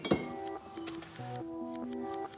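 Glass clinks in a quick, bright strike, followed by a short run of ringing musical tones stepping through different pitches, close and fairly quiet.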